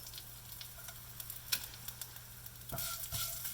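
Asafoetida, curry leaves, green chilli and ginger sizzle in hot oil, a soft steady frying hiss with small crackles and one sharper pop, which swells into a brighter burst of sizzling near the end, quiet overall.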